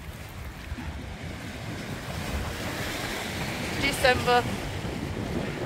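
Waves wash onto a Lake Ontario beach along the Toronto Beaches boardwalk on a cold, icy winter day. Steady surf and gusting wind buffet the microphone, and a voice speaks briefly.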